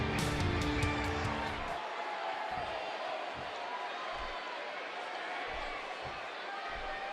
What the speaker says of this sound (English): This crowd is ready. I mean, we got everybody standing on their feet now.